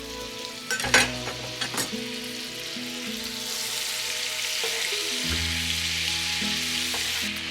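Shrimp scampi sizzles steadily in butter and lemon-infused olive oil in a pan, a continuous close frying hiss with a few clinks of a utensil stirring, heard alone.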